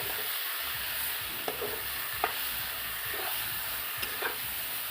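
Leafy greens stir-frying with garlic in hot oil give a steady low sizzle, with a few sharp spatula scrapes against the pan at intervals and no voices.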